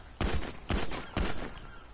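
Three loud, heavy gunshots from a big gun in a Grand Theft Auto game, evenly spaced about half a second apart, each with a sharp crack and a short rumbling tail.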